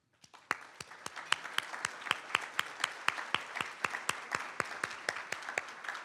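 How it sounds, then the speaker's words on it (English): A small audience at a county government address gives a round of applause: distinct, fairly sparse hand claps rising into a steady patter for several seconds, moderately close. "If you'll please stand, and we'll give you also a round of applause."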